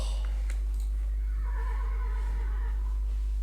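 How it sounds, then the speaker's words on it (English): A horse neighs in a steady whinny, a rising and falling cry lasting a couple of seconds over a heavy low hum and faint background noise, with no talk. "More horse sounds."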